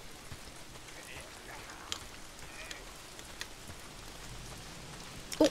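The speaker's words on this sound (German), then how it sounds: "Oh, verdammter Regen." Steady rain falls in the Days Gone video game as a soft, even hiss of droplets with faint scattered taps, continuous and low in level throughout.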